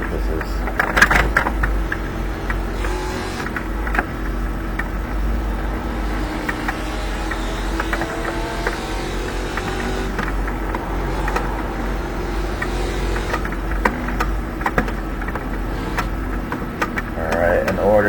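Racing sim car engine held under full load in moderate traffic, a steady low drone that runs the whole time with small bumps and clicks, while a person talks over it.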